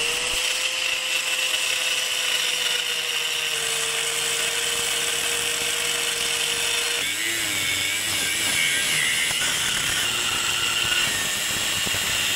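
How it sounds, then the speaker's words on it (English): A power cutter slices into a metal RBC intake manifold being modified to fit a K20/K24 engine, a steady high motor whine that turns rougher and grittier once the blade bites, loud and continuous. "But I'm gonna go ahead and get the cutter, make sure to put on some safety glasses."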